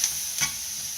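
A frittata mixture with lemon juice being stirred in a frying pan, giving a soft sizzle with two brief scraping strokes of the spoon in one short burst.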